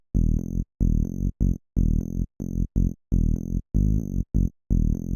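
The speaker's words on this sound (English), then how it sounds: "which is the bass line. I have this preset here loaded combined with the MIDI," Indie dance synth bass line from a loaded preset, punchy distorted notes in a repeating choppy rhythm with sharp stops between them, loud and alone.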